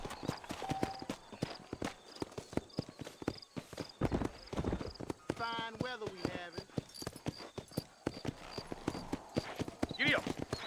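Horse hooves clip-clop in a steady trot in the Western video game Red Dead Redemption, with a whinny partway through, accompanied by game music and a character's voice speaking over it.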